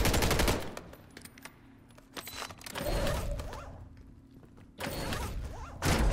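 Close bursts of rapid automatic gunfire in Call of Duty: Warzone, broken by quieter stretches of distant shots and mechanical clicks before the firing picks up again, with no voices.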